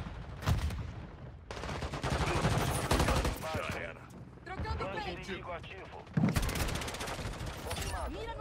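Rapid bursts of automatic gunfire from a weapon in the mobile shooter Warzone Mobile, loud and repeated in short volleys, with a player talking over much of it.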